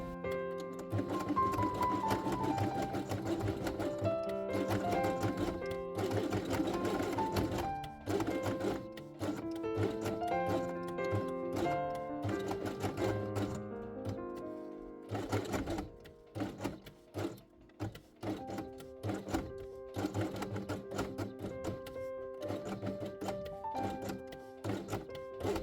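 A sewing machine stitches felt pieces for an Easter quiet book chick page along the edge with yellow thread, a quick mechanical patter in runs broken by short pauses, close and faint, with no talk.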